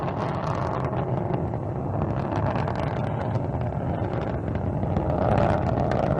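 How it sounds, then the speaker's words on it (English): Soyuz rocket engines roar during launch from Baikonur, a steady, dense, rumbling blast heard from a distance that holds evenly loud throughout, with wind buffeting the microphone. "Engines reported to be operating normally from the blockhouse at Baikonur"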